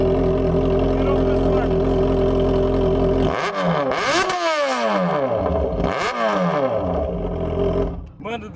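A Yamaha XJ6 motorcycle with a loud aftermarket exhaust idles roughly, then revs hard in two sharp bursts that rise and fall, loud and close, with a voice talking over it.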